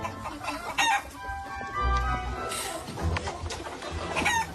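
Hens cluck and squawk as they are fed, a lively, fairly faint flock with overlapping calls and a brief crow-like cry.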